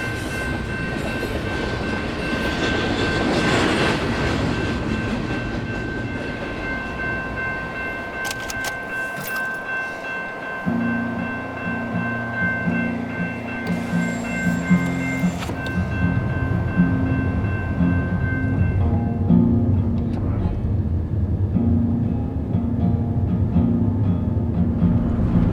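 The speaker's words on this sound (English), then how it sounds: "Sound of tons of steel and freight rolling along the tracks." A heavy freight train of steel cars rolls along the tracks near the Painted Desert, a steady loud rumble with clanking and rattling metal, shifting to a deeper grinding roar midway, heard alone without voices.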